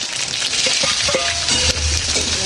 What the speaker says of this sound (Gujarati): હવે ભજીયા નાખી દઈશું અંદર.